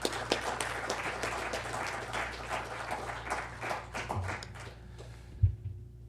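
A lecture audience applauds to welcome Professor Hawkins, with steady clapping from many hands filling the room, tapering slightly toward the end.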